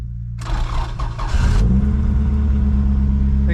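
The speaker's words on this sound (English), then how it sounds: "Exhaust leak." Nissan Z car engine cranking and catching, then settling into a loud, steady rumbling idle with a raspy exhaust leak, close by and without talk.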